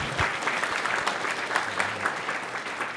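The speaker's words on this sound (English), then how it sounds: "You may clap." Audience applause at the end of a technical talk at the GNU Radio conference (GRCon17): steady, dense clapping from a crowd that fills the room continuously for the whole stretch.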